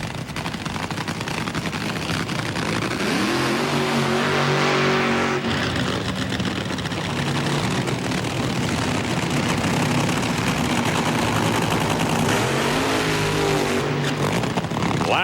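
Top Fuel dragster at the 1998 NHRA Winston Finals in Pomona: a loud, continuous roar of crowd and engine noise, with rising engine tones sweeping up twice as the cars launch and run.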